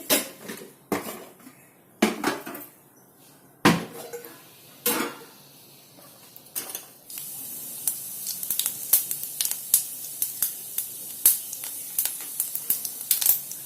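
Tempering seeds spluttering in about two tablespoons of hot oil on a stove, heard as sharp, irregular pops and crackles that start sparse with loud bursts and then settle into a quick, busy patter over a soft hiss.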